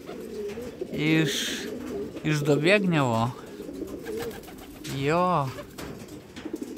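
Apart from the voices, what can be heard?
racing pigeons cooing in loft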